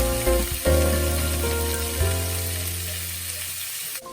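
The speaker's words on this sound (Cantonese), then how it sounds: "放啲油，依家開始煎雞翼。" Chicken wings for a fish sauce recipe fry in hot oil in a wok, giving a loud, steady sizzle up close that eases off slightly toward the end, with no talk.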